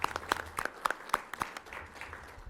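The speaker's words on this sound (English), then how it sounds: "One more round of applause for our students" A brief round of scattered clapping from a small audience at a school committee meeting, sharp distinct claps forming an irregular patter at moderate distance that fades out quickly.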